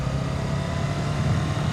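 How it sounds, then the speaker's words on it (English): Motorcycle engine on a first highway ride by a new rider, a loud, steady, low mechanical roar with wind-like broadband noise, continuous and close throughout. "You'll start hearing the engine revving in 3,"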